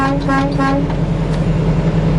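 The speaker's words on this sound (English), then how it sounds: "Over here is the air horn." A loud, close truck air horn blast with a rich harmonic tone, sounding in short bursts before giving way to a rumbling engine idle.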